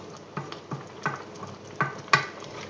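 Squid à la basquaise cooking in a pan, with a soft sizzle underneath and several spaced stirring scrapes and taps, close and moderately quiet.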